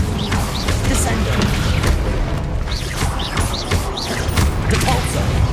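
Descendo spell cast in Hogwarts Legacy on PS5, heard as booming, crashing impacts within a dense, continuous wash of combat noise and effects.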